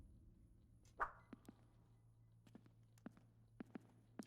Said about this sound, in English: I can hear someone's footsteps on the other side of the door